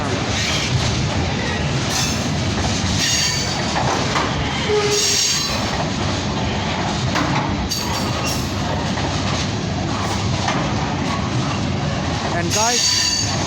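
CN freight train pulling out of Dorval, loud close rumble of wagons with rolling wheel noise and brief squeals, a sustained passage lasting throughout.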